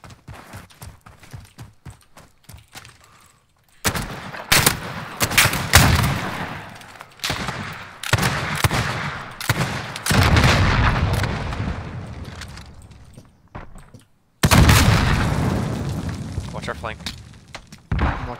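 Gunfire in Call of Duty Modern Warfare 2019 Gunfight mode, repeated loud bursts of close automatic fire and booms in several bouts with short quiet gaps, with players talking in between.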